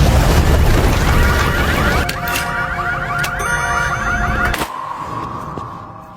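A bomb thrown by a mafia member explodes in an action film scene, a heavy low boom rolling under sustained ringing tones and debris, with a sharp crack midway and the blast decaying near the end.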